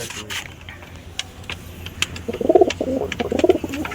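Pigeons cooing nearby on a rooftop, with two soft bursts of throaty coos in the second half following quieter ambient noise and a few clicks.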